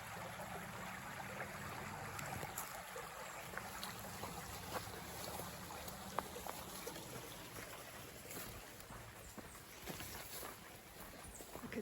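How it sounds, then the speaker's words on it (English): Stream water flowing beside a hiking trail on a Connecticut waterfall loop, a steady, faint trickling wash with soft wind, continuous and undisturbed throughout. "I love listening to the sound of the water while I'm hiking."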